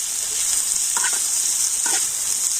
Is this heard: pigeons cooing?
no